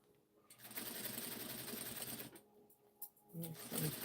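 A sewing machine runs in a steady, fast, whirring stitch while sewing a jumpsuit. It pauses briefly, then starts again in short bursts toward the end.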